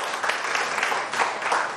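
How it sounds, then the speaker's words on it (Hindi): Studio audience on a Pakistani morning talk show clapping in a brief, steady patter of applause, moderately loud with no voices over it. "ताली तो बजाओ"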